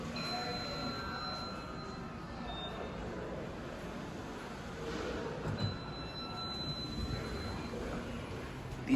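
Otis Gen 2 scenic elevators at a science center in Pittsburgh running, a steady low mechanical hum and rumble with faint high whine, fairly quiet and continuous without talk.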